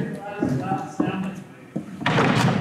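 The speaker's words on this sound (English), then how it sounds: "what you heard was me shutting this door" A door being shut inside an old mansion, giving a few dull thuds and then a louder slam near the end, with people talking throughout.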